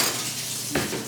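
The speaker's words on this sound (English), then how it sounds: "Stir this up." A utensil stirs a pasta dish with Parmesan and Tabasco in a pot, a single brief scrape and clink near the end over a soft background hiss, close by.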